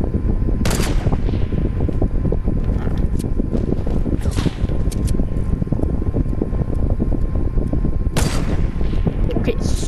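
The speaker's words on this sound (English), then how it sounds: "Getting a sniper battle where we're not even going anywhere." Sniper rifle shots crack out in a Fortnite match, a few sharp reports spaced seconds apart over constant dense battle noise and wind-like rumble, loud and close.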